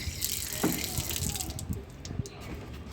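Water is poured onto potted plants, a soft splashing trickle with small irregular drips and knocks, fairly close and quiet against low background noise.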